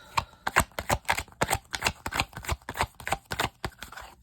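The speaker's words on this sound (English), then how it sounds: "This is a really hard deck to shuffle." A stiff deck of tarot cards being shuffled up close, quick rhythmic riffles and slaps in irregular bursts, fairly quiet with no voices.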